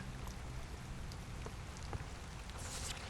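Rain falling in the video game Portrait of a Torn, a steady soft hiss of drops on a surface with occasional brighter individual splats, fairly faint and continuous throughout.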